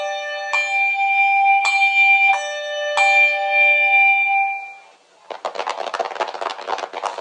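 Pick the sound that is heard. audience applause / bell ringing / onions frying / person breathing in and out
bell ringing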